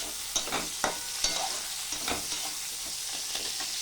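Potatoes with a little onion and green chillies frying in a pan, giving a steady sizzle broken by several sharp scraping stirs of a spatula, close and fairly loud with no talking.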